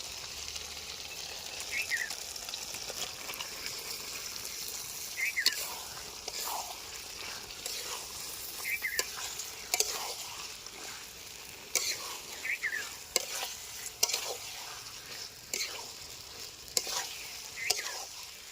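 Chicken stirred and fried in a spiced masala that has released its oil: a continuous sizzle broken by repeated spoon scrapes and stirring strokes at a steady pace, close by.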